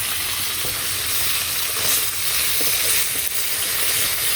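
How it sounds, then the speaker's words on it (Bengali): Steady, close sizzling and crackling of fish frying in hot oil, continuous throughout with no voices. "এগুলো একটু বেশি ভাজা ভাজা করে ফেলি ভালো লাগে মশমশা"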